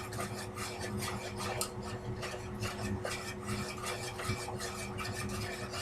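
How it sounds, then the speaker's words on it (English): Cream being stirred in a pot for mac and cheese, rhythmic rasping scrapes of a utensil against the pot, close and continuous with no speech. "Then keep stirring your cream."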